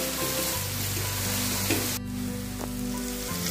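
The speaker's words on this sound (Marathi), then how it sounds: "आपण जी अंडी फ्राय करायला ठेवली ती पण चेक करत राहायची" Eggs fry in a pan while an egg masala is cooked, giving a steady, close sizzle with crackling spatters and a short stirring scrape partway through.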